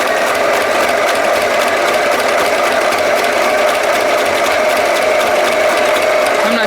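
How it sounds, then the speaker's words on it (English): A sewing machine runs a zigzag stitch through cardstock in a loud, continuous mechanical rattle with a fast ratcheting pulse, close and steady with no talk. "just put a zigzag stitch on it"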